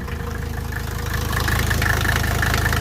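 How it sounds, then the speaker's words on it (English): A Mercedes 300TD wagon's OM617 diesel engine idling roughly, a loud, close, steady clattering rumble with a fast knocking pulse that swells slightly partway through, with no voices over it. "it's a little bit shaky at idle, and I don't know if that's normal or not for these engines"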